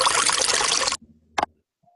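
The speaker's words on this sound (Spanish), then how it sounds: "¿Listo? Vamos a echarle más agua," Water poured onto soil over a planted seed in a preschool class activity: a loud, close, splashing pour lasting about a second, then quiet, with one short burst of splashing.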